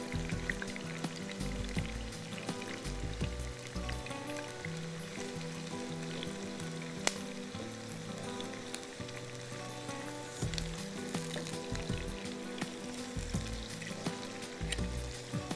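Onions frying with cloves and black pepper in a pan for qeema aalu, turning golden, a steady continuous sizzle running throughout beneath a busy background, with no talk.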